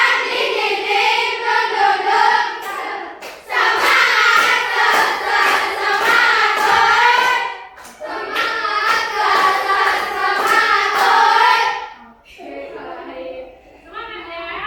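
A class of schoolchildren performs the Indonesian 'tepuk semangat' clapping chant, voices chanting loudly in unison with rhythmic hand claps, in repeated phrases separated by brief pauses, ending with a quieter trailing section.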